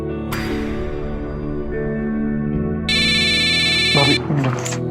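A mobile phone ringtone in a Hindi romantic film scene, a bright repeating electronic melody that rises out of a dense musical score and sits loud in the mix for a couple of seconds.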